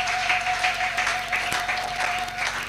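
A church congregation bursts into sustained applause, a dense steady clapping from many hands that fills the room throughout without any speech over it.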